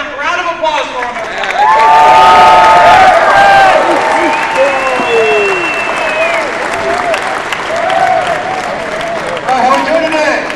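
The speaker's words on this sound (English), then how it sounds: "Big round of applause for him." A crowd at a Ron Paul town hall meeting at Lindenwood University in St. Charles, Missouri breaks into loud, sustained applause with cheers and whoops rising over the clapping, swelling after a moment and holding strong before easing.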